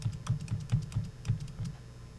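Quick, light keystrokes on a computer keyboard, a brisk irregular patter of clicks close by with no talking.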